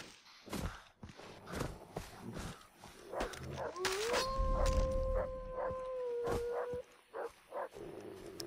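Dogs howling in the jungle of the video game Far Cry 3: one long, rising then steady howl stands out mid-clip over barks, footsteps and game ambience, moderately close.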